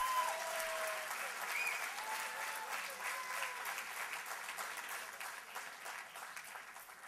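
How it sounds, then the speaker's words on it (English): An audience at a contest finals claps steadily for the contestants, a sustained, moderately loud round of applause that slowly tapers, alone without talking. "Could we have a big round of applause for all the contestants?"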